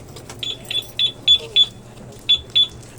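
A motorcycle alarm remote's answer-back beeps, MIOGEARS 125: a series of short, high electronic beeps, about seven in an uneven rhythm, fairly close, with faint background noise.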